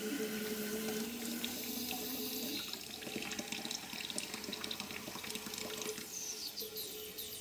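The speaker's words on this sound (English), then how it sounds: "you can hear the sound that the injector should make when it's working properly" A miniature steam locomotive injector runs with water flowing through it, giving a continuous, fairly quiet rushing and hissing of water with no voices.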